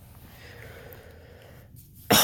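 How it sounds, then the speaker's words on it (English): A single sharp cough bursts out at the very end after a quiet, low background. "cough."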